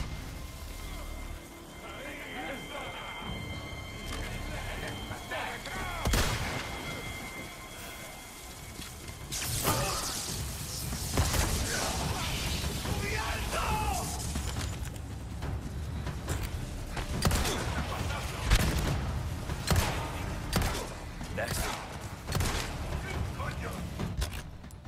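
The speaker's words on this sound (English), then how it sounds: "Rocket launcher?" Rocket launcher blasts and combat in Resident Evil 4 Remake, several heavy booms and bursts scattered over a busy, clattering mix, with one big impact near the middle followed by continued mechanical rattles and hits.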